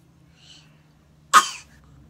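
A single sharp sneeze bursts out close by after a quiet stretch, loud and brief with a short trailing tail.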